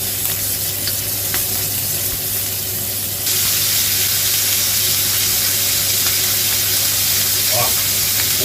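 Cuttlefish hits hot oil in a wok and sizzles loudly, a dense frying hiss that jumps sharply in strength partway through and then keeps crackling steadily up close.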